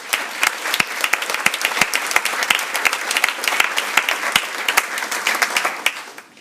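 Audience at a Miss New York pageant event giving a round of applause, steady clapping from a modest crowd lasting several seconds with distinct individual claps standing out.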